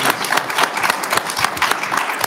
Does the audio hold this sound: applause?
yes